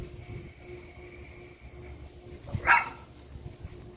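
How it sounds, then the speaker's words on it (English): A single sharp dog bark erupts amid a playful scuffle between two dogs, standing out loud and close over a low, steady background rumble. "One fierce bark."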